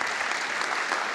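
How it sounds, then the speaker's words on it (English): A short burst of dense audience applause for a finalist at a sustainable-business pitch competition, loud and even throughout with no pauses. "Let's give him a round of applause."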